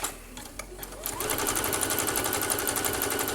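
A sewing machine with a new needle set to its widest zigzag stitch starts up and runs steadily, a fast, even mechanical rattle close by, loud and continuous after a brief quiet start.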